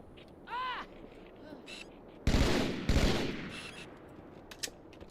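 Gunfire in Halo 2 during a campaign fight with a Phantom nearby: two loud, sharp bursts around the middle of the clip, each decaying briefly, with fainter scattered shots and whooshing effects before and after.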